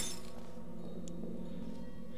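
Glass clinking in Portal 2, a couple of faint, brief bright taps above a steady low hum of room tone, no talking.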